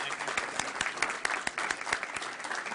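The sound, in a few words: audience applause at a board meeting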